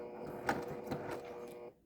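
A sewing machine runs in a short burst of forward stitches along a pillow seam, a quiet rapid mechanical whirr with a few louder clicks, stopping near the end.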